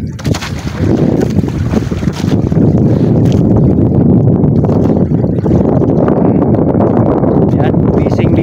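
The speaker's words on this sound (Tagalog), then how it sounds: "Ayaw talaga magpaawat tong hangin na to" Strong wind roars and buffets the microphone aboard a boat in a loud, continuous rumble, with water and the boat engine underneath and voices faintly mixed in.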